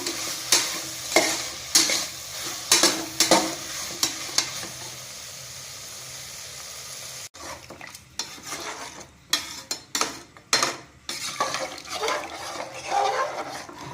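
Drumstick pieces being stirred in a pot for Tamil drumstick soup, a run of scraping, clattering spoon strokes against the metal over a soft sizzle, pausing briefly before another burst of rapid stirring.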